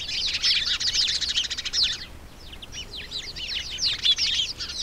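Sparrows in a small flock, in dense vegetation, give rapid, bright chirruping calls in busy overlapping bursts; the calls are close and fairly loud, with a brief lull midway before the chatter resumes.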